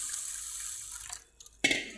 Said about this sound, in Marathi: पाणी ओतून घेतलं, परत त्याच्यात पाणी टाकायचं,